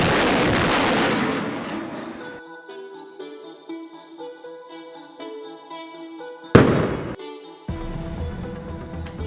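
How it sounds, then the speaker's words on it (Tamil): Multi-barrel rocket launchers fire with loud blasts in a mountain setting, each burst rumbling and echoing as it decays, with a second sharp salvo about two-thirds through. "What you see behind you are multi-barrel rocket launchers."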